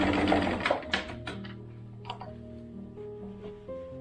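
A sewing machine stitches quilt fabric in a short whirring run at the start, then slows to a few scattered mechanical clicks and ticks, close and fairly quiet.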